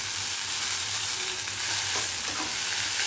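Vermicelli vegetable upma is stirred gently in a frying pan, a soft continuous sizzle with faint scraping movements underneath and no speech.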